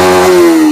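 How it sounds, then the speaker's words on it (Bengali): A motorcycle engine started in neutral at a bike showroom gives a loud, close, steady buzzing drone for under a second, with no voices. "গাড়িটা স্টার্ট করে বন্ধুদের আওয়াজটা শুনিয়ে দাও।"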